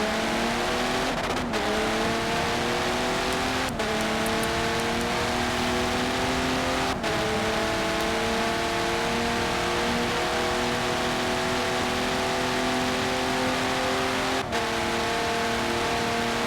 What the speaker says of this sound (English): You just kind of hear the difference in shifts between all the drivers and their different tuning sets